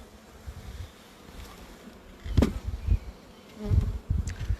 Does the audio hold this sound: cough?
no